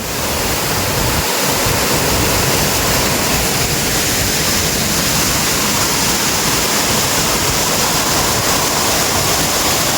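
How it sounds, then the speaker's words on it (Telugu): The large waterfall at Kushaloya falls, one of seven cascades down a hillside, pours as a loud, constant broadband roar, close and unbroken without talk. "చూస్తున్నారు కదా, వాటర్ ఫాల్ అయితే చాలా బాగుంది."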